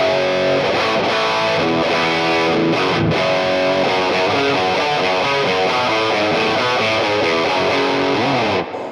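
Heavily overdriven electric guitar through an overdrive pedal, playing sustained, saturated chords and riffs, loud and continuous with a gritty distorted edge.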